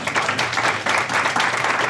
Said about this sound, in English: Another round of applause for Rothblatt.